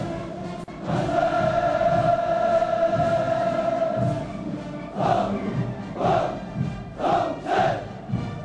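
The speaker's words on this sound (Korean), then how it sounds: "승리자의 환호성을 목청껏" A massed crowd at the 2003 North Korean military parade roars in a long sustained cheer, then breaks into loud rhythmic bursts of chanted shouts, close and dense.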